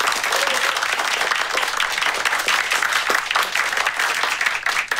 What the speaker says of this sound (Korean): 5년에 한 번뿐인 승진 하나 바라보고 열심히 일한 우리 엔지니어분들을 위해서 박수!